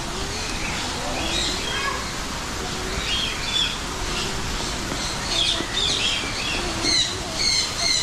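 Birds chirping and calling at a bird park with flamingos present, bright short calls scattered throughout over a steady crowd murmur and background chatter.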